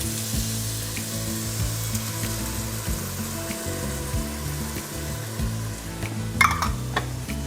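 Spices cook in a pot of wild turkey chili with a continuous low sizzle and bubbling, close by, and a brief clatter of a utensil near the end.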